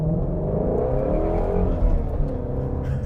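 A Ford Mustang GT350 engine revs loudly up close, a deep continuous roar that climbs in pitch with a brief surge near the end, with no voices.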